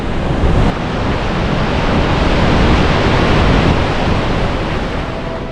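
A river flows near Ronda, a loud, dense, unbroken rush of water, close and steady throughout, with no voices.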